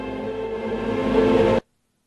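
A designed sound effect for a huge cloud sweeping through and destroying a planet in Invincible: a dense, roaring rumble with layered tonal texture swells steadily, then cuts off abruptly into silence.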